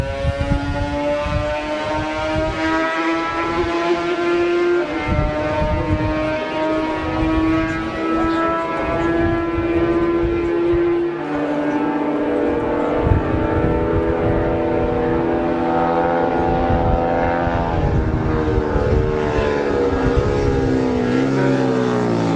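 Racing motorcycles, a Manx Norton and a Drixton Honda, pass on a classic road course, their engines in a loud sustained howl. The pitch climbs, holds, then sweeps downward as the bikes go by, continuous and close with no talk.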